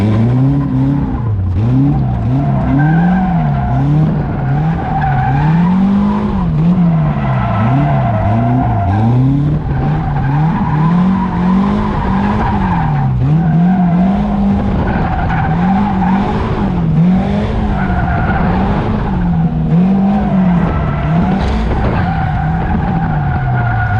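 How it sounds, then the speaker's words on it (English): A Caterham Seven slides sideways around a track, its tires squealing in long wavering howls under a constant engine drone, loud and close for the whole stretch. "It's just driving Caterham sideways."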